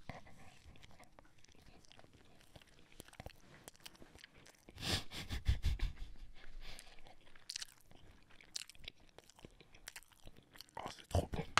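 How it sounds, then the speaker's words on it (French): Someone eating a homemade croque-monsieur, close moist chewing and soft crunching bites, quiet at first then louder in the middle, with no talking. "je vais manger un croque-monsieur que m'a fait ma femme"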